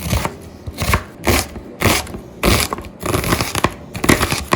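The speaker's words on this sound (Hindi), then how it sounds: "उनको बारीक बारीक काट लें या आप चॉपर में चॉप कर लें" A knife chops vegetables finely on a cutting board in a close, rhythmic series of crisp thuds, grouped in quick bursts with short pauses between them. No one speaks.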